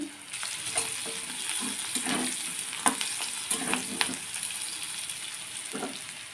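Liver with turmeric stir-frying in oil in a pan, a continuous close sizzle punctuated by repeated spatula scrapes and clacks against the metal, no voices.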